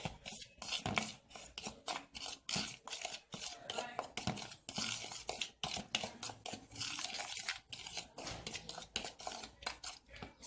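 A spoon clatters rhythmically against a bowl or plate while chilli and black pepper are mixed into chicken drumsticks, quick repeated scraping and tapping strokes, close and fairly quiet, with a voice talking now and then.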